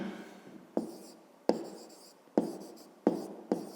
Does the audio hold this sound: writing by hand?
yes